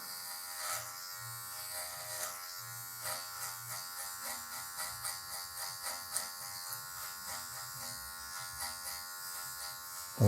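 An electric hair clipper fitted with a number 1 guard cuts afro hair, a steady buzzing hum that pulses softly as the blade passes through the hair, fairly quiet and alone.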